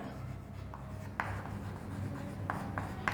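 Marker or chalk writing on a board during a math lesson, with short scratchy strokes and a few sharper taps, close and fairly clear over a low room hum with no talking.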